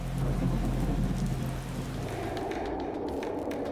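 Heavy rain and thunder in Ziro, Arunachal Pradesh, a loud, steady downpour with a deep rumble of thunder fading in the first half.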